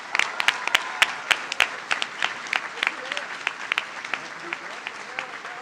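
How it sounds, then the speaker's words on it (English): A closing ceremony audience applauds, the claps starting sparse and individually distinct, then settling into a steady, moderate patter that thins out near the end. "Give yourselves a round of applause."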